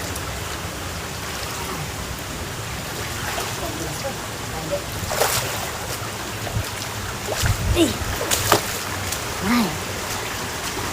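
Flowing water at Handuan Falls near Clark, Pampanga: a steady, broad rush with occasional splashes and knocks. A voice briefly calls out.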